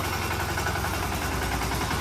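A tractor engine runs steadily while being driven through a village, a close, continuous mid-pitched chugging drone with no voices.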